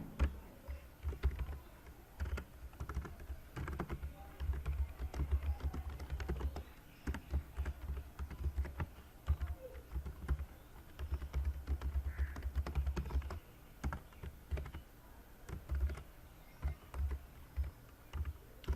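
Typing on a computer keyboard while coding, with quiet, irregular clusters of key clicks and pauses in between, close and soft with no voices.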